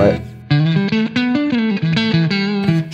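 Guitar through a budget spring reverb pedal: a loud run of plucked single notes in a quick melodic line, each with a bright, slightly twangy reverberant tail, played alone and close.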